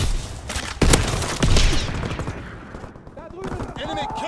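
Rapid gunfire in a video game battle, bursts of automatic shots and single cracks close by, with shouted voices and game chatter around the shooting.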